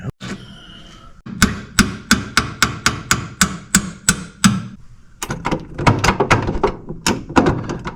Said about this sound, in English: I actually had to just kind of tap both sleeves in